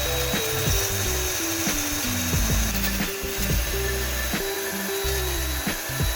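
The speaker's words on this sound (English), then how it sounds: "I'm gonna drill my last set of wheels" A power drill bores bolt holes through Jeep wheels, grinding steadily and loudly up close, its pitch dropping in repeated stepped runs as the bit bites into the metal, with no talking.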